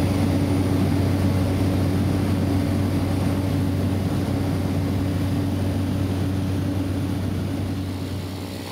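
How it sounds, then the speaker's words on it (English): A small local propeller plane flies over Costa Rica, heard from inside the cabin as a steady, loud engine drone with a constant low hum that holds throughout and eases slightly at the very end. "Taking a local plane to many of the remote small airports in Costa Rica is a great experience."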